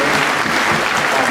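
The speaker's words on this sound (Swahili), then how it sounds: "Tupigie mtoto wetu makofi." A church congregation at a Mass in St. Mary's Parish, Ongata Rongai, gives a child a dense, sustained round of applause, loud and close throughout.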